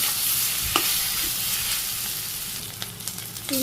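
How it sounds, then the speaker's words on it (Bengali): Fish frying in a pan for a village-style Bangladeshi meal, a steady broadband sizzle running throughout with a few brief clinks and stirring knocks, close and moderately loud with no voices. "মাছ ভাজি এখন আবার মাছের সাথে কিছু সময় ভাজি করে নিই"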